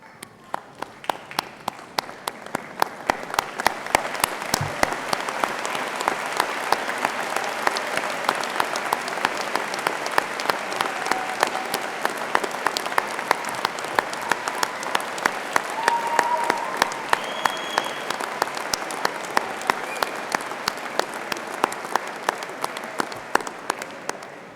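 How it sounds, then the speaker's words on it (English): Sustained, dense applause from a large graduation ceremony crowd at Birmingham City University honouring the graduates, swelling quickly and holding strong for over twenty seconds, with sharper individual claps standing out near the front. "join me in giving them a well-deserved round of applause"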